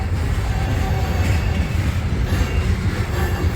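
The rear end of a freight manifest train rolls past at close range, a loud continuous rumble with rail clatter and no gaps.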